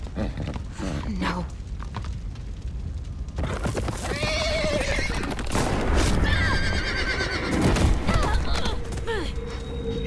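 In The Walking Dead game, a horse neighs and whinnies loudly amid clip-clopping hooves, gunfire-like bursts and tense music, with a voice talking over parts of it.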